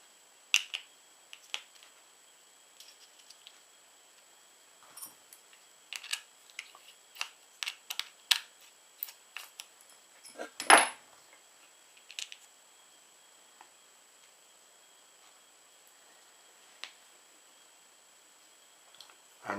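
Gearbox housing being taken apart by hand, with a scattered series of small, sharp clicks and light metallic ticks at irregular intervals, one louder clack partway through, all fairly quiet and close, with no talking.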